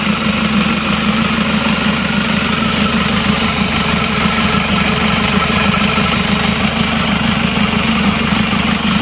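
A diesel engine on an Isuzu Panther with an oil-consumption problem runs steadily with a dense, even rumble and vibration throughout. The engine is close, loud and alone, with no clear rise and fall of revving.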